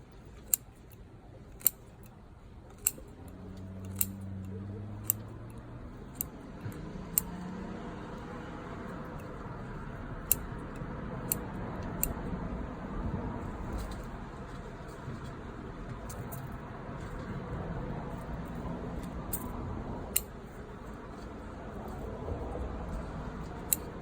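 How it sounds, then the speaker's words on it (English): Scissors snipping branches of a juniper bonsai, a series of sharp, sparse clicks spread across the clip over a soft, steady background hum. "Just going to cut."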